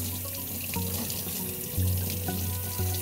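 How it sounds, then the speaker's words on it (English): Tap water runs steadily into a sink, rinsing fabric bundle-dyed with natural and fiber-reactive blue dyes and turmeric, with brief splashy surges as the cloth is moved under the stream. "Keep rinsing as I go, just like any of that extra dye powder."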